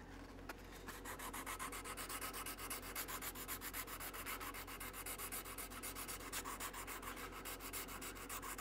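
Steady rhythmic rasping of sandpaper rubbing back and forth over a wooden bow, close and continuous, with no voices.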